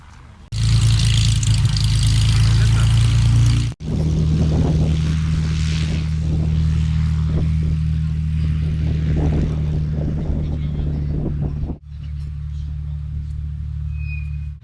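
A light aircraft comes in to land, its propeller engine droning loud and steady, cutting out briefly, then returning at a lower, quieter level before ending, with people talking over it.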